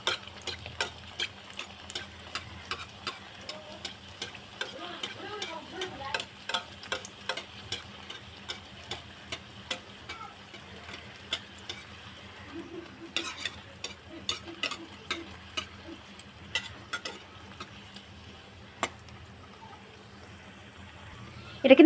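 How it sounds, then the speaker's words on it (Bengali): Mughlai paratha stuffed with potato and carrot fries in a little oil in a pan, giving a soft continuous sizzle with frequent light ticking pops and scraping stirs, close and steady throughout. "আর আরও আমি সবগুলো এইভাবেই ভেজে নেব, সবগুলো আমি একইভাবে ভাজবো।"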